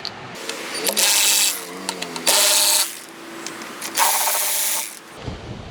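A power driver backs bolts out of a 2023 BMW S1000RR motorcycle during an air filter install, three distinct whirring bursts of the motor separated by pauses and small clicks, close and fairly loud.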